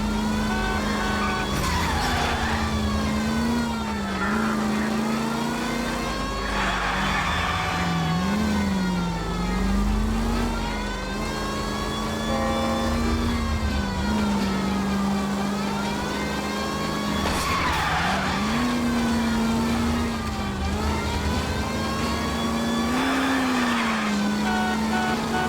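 A car chase in the game L.A. Noire, with a mid-pitched engine revving and dropping in repeated swells while tires squeal and skid through turns, loud and continuous for the whole stretch with no talking.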